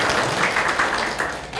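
Audience applause at a political party members' meeting in Pohang, a dense, steady wash of many hands clapping at once, filling the room for a short burst.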